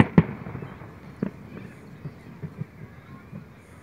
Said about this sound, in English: Over here we have the bright and vibrant and explodey fireworks.